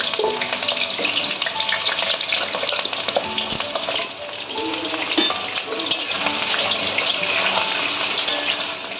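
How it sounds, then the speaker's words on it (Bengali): Diced potatoes fry in hot mustard oil in a wok, a dense steady sizzle with occasional clacks of a utensil turning them, loud and close with no one talking. "তেল আমাদের গরম হয়ে গেছে, এবার আলুগুলো আমরা ভেজে নেব।"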